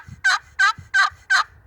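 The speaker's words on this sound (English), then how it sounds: "a longer sequence of yelps is what we call an assembly yelp" A turkey assembly yelp comes as four evenly spaced, loud, nasal yelps in a quick regular sequence, close and alone.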